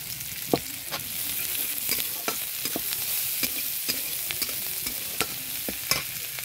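Whole cumin seeds fry in hot oil with a steady loud sizzle peppered with sharp individual pops and crackles, close and unaccompanied by talk.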